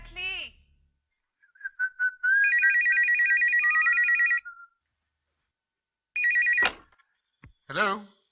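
A telephone rings in repeated electronic trills, first a long sustained ring and then a shorter one after a pause, with brief voice sounds at the beginning and end.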